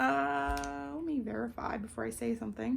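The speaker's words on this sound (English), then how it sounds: "Excuse my dog." A dog lets out a drawn-out, high, tonal whimper that lasts about a second, then goes quiet as a person starts talking close by.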